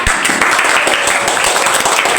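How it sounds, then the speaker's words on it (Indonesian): Schoolchildren in a classroom clap loudly for a student group, a brisk burst of many hands close by that continues without pause. "Berikan tepuk tangan"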